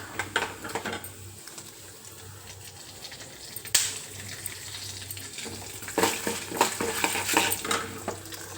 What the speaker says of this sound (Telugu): నూనెలో శనగపప్పు, మినపప్పు, ఆవాలు, పల్లీలు వేసుకున్నాను.